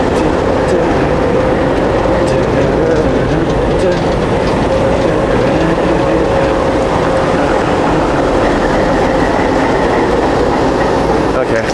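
A train rolls steadily along the rails with a constant loud rumble and faint clattering, continuous throughout.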